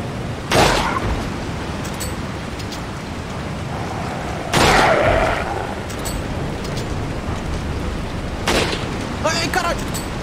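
Gunfire in Resident Evil 4 HD, with a few loud broadband shots spaced several seconds apart over steady game ambience, each followed by a brief decaying tail.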